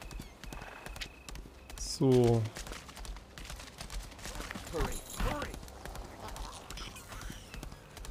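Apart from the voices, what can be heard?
horse hooves while riding in video game Lost Ark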